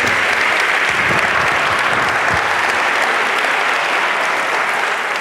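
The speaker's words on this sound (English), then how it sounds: "Let's give them a big round of applause." A large audience applauding steadily, a dense, even wash of clapping that stays loud for several seconds without pause.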